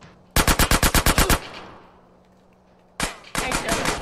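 Automatic gunfire in GTA San Andreas Definitive Edition: a loud, close burst of about nine rapid shots, a fading tail, then a second sustained burst of fire.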